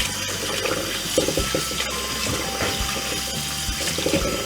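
Tap water runs steadily into a sink while vegetables are rinsed under it, with handling clatter and splashes throughout, close and moderately loud.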